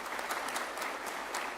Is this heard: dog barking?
no